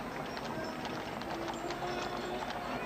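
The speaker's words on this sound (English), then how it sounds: "Beautiful Belgian 6-horse hitch." Hooves of a Belgian six-horse hitch clip-clop steadily while pulling a massive, heavy old circus wagon in a street parade, a continuous trotting patter under crowd noise and distant voices.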